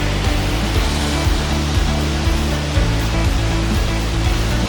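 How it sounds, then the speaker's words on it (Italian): Waterfall at Cavaterra, near Nepi, with a steady, loud broadband rush of falling water that holds evenly throughout and has no talk over it. "Ed ecco qui le cascate che si vedono di Cavaterra."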